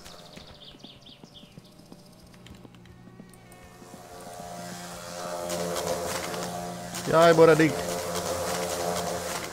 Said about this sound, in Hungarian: Darázsák vannak a berdába, gyerekek!